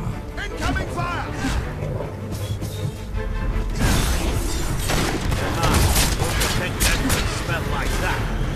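Gunfire and explosive booms from a Fable III co-op battle, with bursts of shots and crashes building into dense, loud action over game music and effects, alongside spoken voices.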